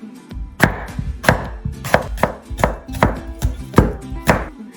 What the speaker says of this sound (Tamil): வெள்ளரிக்காய், கியூக்கம்பர், அதுவும் சின்னதாக நாங்கள் வெட்டி எடுக்கணும்.